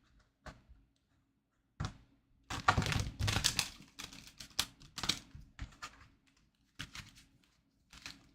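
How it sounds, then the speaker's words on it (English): Irregular bursts of riffling and snapping tarot cards being shuffled, with short quiet gaps between flurries, close and fairly loud with no talking. "Let me shuffle this deck."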